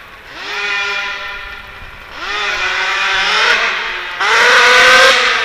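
A 100cc twin-engine RC car with dual fuel tanks screams at full power, three loud rising engine wails that climb in pitch, each louder and closer than the last.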